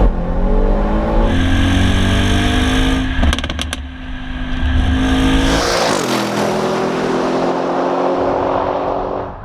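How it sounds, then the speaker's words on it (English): A loud Audi RS6 Performance V8 exhaust roars as the 605 hp engine revs up through the gears, pitch climbing, dropping at a shift, then rising again, close and continuous. "It's a good thing though that the exhaust sounds very,"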